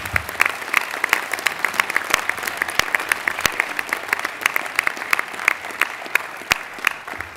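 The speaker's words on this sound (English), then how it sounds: "A round of applause for our NLC board" Steady applause from a large convention crowd of about 3,000 in Boston, dense clapping that continues evenly throughout.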